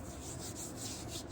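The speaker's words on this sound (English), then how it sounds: "It's a trick called wet sanding." Steady wet rasping and rubbing as water-sprayed abrasive paper works a spinning resin block on a lathe, a continuous close scratchy hiss with gentle rhythmic pulses.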